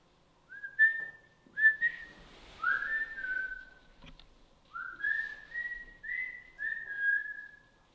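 A person whistles a series of clear, rising and sliding notes inside the old Fairfield County Infirmary, in short phrases with brief pauses, close and alone.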